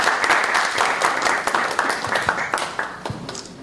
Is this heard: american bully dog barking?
no